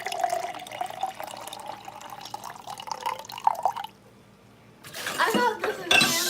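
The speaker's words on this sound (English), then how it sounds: "I'm pouring different kind of heated waters into cups." Hot water is poured into cups, with a steady trickling pour under voices and clinking, then a pause before more splashing and cup clatter.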